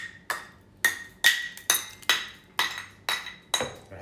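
Eight sharp, evenly spaced clinks ring out as the hammer end of a metal spoon strikes a stuck block of ice in a glass, each hit bright and close with a short ringing decay.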